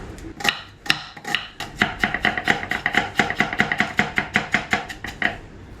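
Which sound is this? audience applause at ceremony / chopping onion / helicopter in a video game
chopping onion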